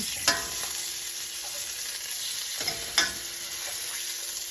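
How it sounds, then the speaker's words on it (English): Chops sear in a hot pan with a steady, close sizzle broken by a few sharp spits and pops, no voices. "Time to turn over our chops. Nicely seared on the outside."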